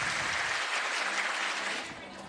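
Spectators at a junior athletics championship clap for a long jumper, a dense, steady wash of applause from a sizable crowd that tapers off slightly at the end.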